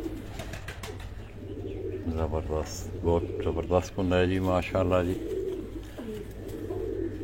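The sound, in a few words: breeder pigeons cooing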